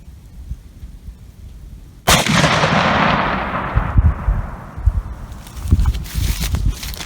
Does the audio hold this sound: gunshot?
yes